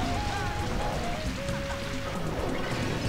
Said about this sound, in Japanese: わ、雨乞い、やだな。